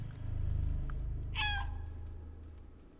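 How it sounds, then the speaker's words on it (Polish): Cat meows once in the video game Stray, a short bright two-part cry that rises out of a low rumbling ambient background, fairly faint overall. "Miauczy."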